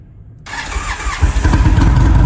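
A motorcycle engine is started with its starter button: a short whirring crank, then the engine catches and rises into a loud, rough idle close by.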